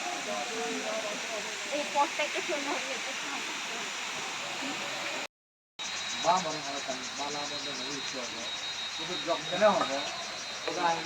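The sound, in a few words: Shuvolong waterfall in Rangamati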